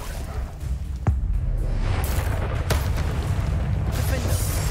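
A Confringo explosion spell goes off in Hogwarts Legacy as a sharp crack and boom followed by a rumbling blast, set against continuous game noise and other spell effects.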